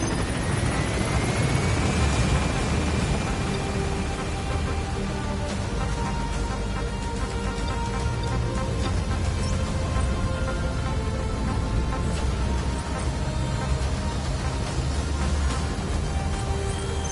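Helicopter rotor and engine roar steadily as it gains altitude in a video game, loud and close, a continuous dense thrum with a rising whine at the start and no talk.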